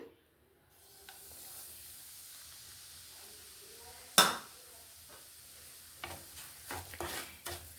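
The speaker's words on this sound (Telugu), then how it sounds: "ఇప్పుడు ఈ నెయ్యిలో ఈ రవ్వ బాగా ఫ్రై అవ్వాలి" Soft, low sizzle of semolina frying in ghee with cashews, broken by a sharp hiss midway and a few scraping stirs toward the end.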